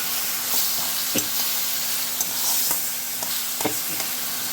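Panch phoron, green chillies and bay leaves sizzle in hot oil for a potato-and-stem fish curry, a steady close hiss broken by a few sharp utensil taps and stirring scrapes.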